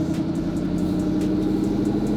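A twin-turbo C8 Corvette ZR1 convertible with a top-mount turbo kit runs on a dyno, its engine holding a loud, steady, close drone throughout with a dense mid-range roar and no speech.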